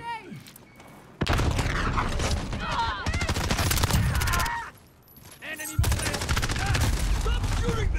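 Rapid automatic gunfire bursts in the Modern Warfare video game, loud and dense with a brief lull partway through, while a player talks over the shooting.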